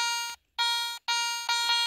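A metal detector, the 400 model, sounds a steady high-pitched tone over silver nuggets, three sustained beeps close and loud with short gaps between them.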